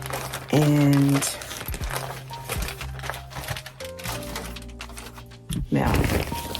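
Paper napkins being handled and crinkled close up, with rustling bursts and tonal thunks while someone talks over them.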